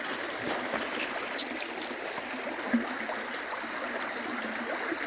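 River water flows steadily after heavy rain, a continuous close broadband rush and trickle with no voices.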